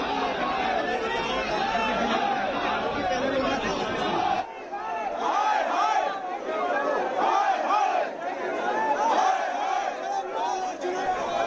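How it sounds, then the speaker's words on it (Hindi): A crowd of BJP workers shouts protest slogans outside the AAP party office in Punjab, with dense, continuous chanting and overlapping voices that stay loud and close for the whole stretch, dipping only briefly. "नारेबाजी आप सुन रहे हैं"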